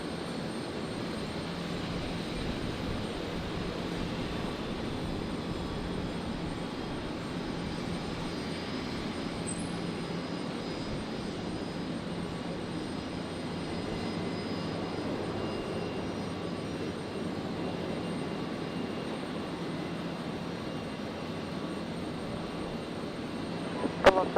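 A jet airliner takes off from runway 01 left at Brisbane Airport at night, a steady distant engine roar and rumble sustained throughout with no talk.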